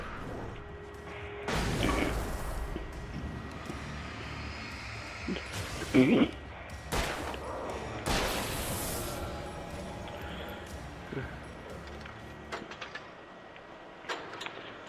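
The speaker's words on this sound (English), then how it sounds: "Still gonna use a flashbang here." In the game Alan Wake, a flashbang goes off among gunfire: several loud, sharp bangs spaced a few seconds apart over steady background game ambience.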